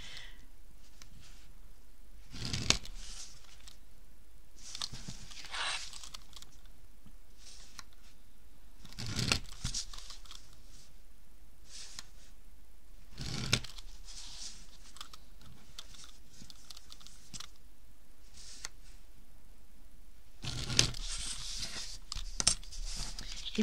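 Crisp crackles of paper being creased and folded, in short separated bursts with quiet handling between them.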